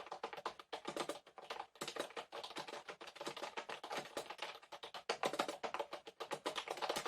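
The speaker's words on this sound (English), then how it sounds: "Which keyboard on the market sounds like that?" Fast, continuous typing on a Logitech wireless computer keyboard, dense clacking keystrokes close up with brief pauses between bursts.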